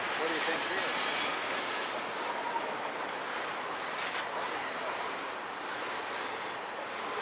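BNSF and Union Pacific freight tanker cars roll past along Puget Sound, a steady, loud rumble of wheels and rattling cars with faint squealing, continuous and fairly near throughout.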